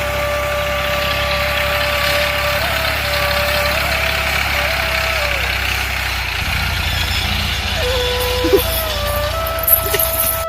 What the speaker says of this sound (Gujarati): ટ્રેક્ટર આવી ગઈ છે અડધું ફેરવાનું ચાલુ કરી દીધું છે